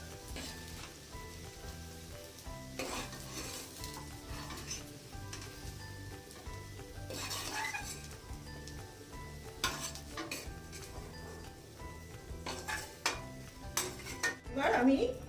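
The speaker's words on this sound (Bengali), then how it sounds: "বিনসগুলো ঢেলে দিচ্ছি ফ্রাই করার জন্য। মিডিয়াম ফ্লেমে রেখে সবজিগুলো ভেজে নিচ্ছি।" Beans fry in a pan over a medium flame as they are stirred. A soft, continuous sizzle runs under intermittent scraping and clinking from the utensil, which grows busier toward the end.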